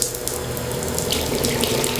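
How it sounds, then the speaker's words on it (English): Water gushes steadily from a bathroom faucet into a sink, a loud, close and continuous rushing stream with no voices. "The whoosh of running water was the only sound in the cold space."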